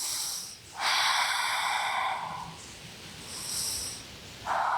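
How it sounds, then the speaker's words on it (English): Slow restorative breaths during a yoga session, several long airy inhales and exhales through the nose, close and fairly loud, with quiet pauses between them. "Take a few restorative breaths right here."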